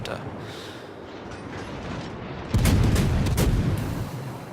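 Gun salvos from the Worcester cruiser boom in a naval battle game, a heavy burst arriving partway through with a couple of further thuds after, while someone talks over the gameplay.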